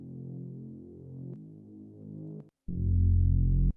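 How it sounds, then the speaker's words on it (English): A Trillion synth pad plays a basic low note, a sustained hum with a rich, throbbing harmonic body, shifting tone partway through, briefly cutting out, then returning louder and fuller before stopping, with no talking. "this is a pad from Trillion."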